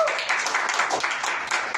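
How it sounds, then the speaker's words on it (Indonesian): A church congregation at GKKI Penabur Benih Sukabumi claps for God during a sermon, producing a dense, steady wash of many hands clapping at once that fills the room for the whole stretch. "Beri tepuk tangan buat Tuhan."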